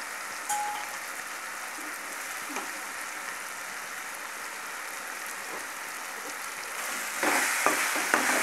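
Meal maker (soya chunk) curry simmering and being stirred in a pan, giving a steady soft sizzle with occasional light scrapes and a louder bubbling burst near the end, no talk.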